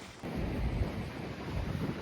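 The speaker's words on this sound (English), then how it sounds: "God, it's so windy." Strong wind in open Icelandic countryside buffets the microphone, a low roaring rumble that swells after a brief calmer moment and keeps gusting unevenly, fairly faint overall.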